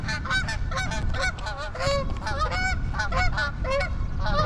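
A flock of geese honks repeatedly near an RV park, with overlapping loud calls in a busy, continuous chorus.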